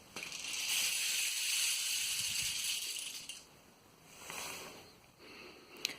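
A rainstick is tipped so pebbles and seeds fall against its inner sticks, making a soft, water-like rushing patter that swells, fades and returns in separate faint pours.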